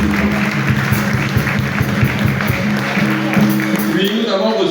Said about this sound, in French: je vous invite à applaudir non seulement pour vous,